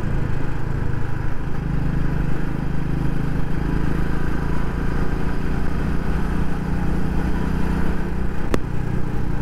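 A BS4 motorcycle engine runs with a dense, continuous firing rumble, loud and close throughout, with a single sharp click near the end and no talking.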